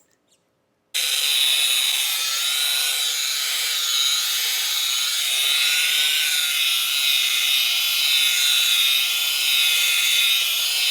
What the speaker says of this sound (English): Wet sanding the tabletop.